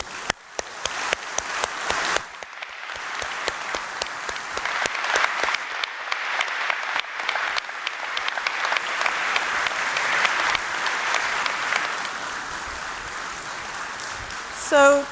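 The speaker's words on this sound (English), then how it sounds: "I want to give all of you a round of applause" Audience applause at an opening keynote: a large crowd claps steadily for about fifteen seconds, with a few sharp early claps building into a dense, sustained wash.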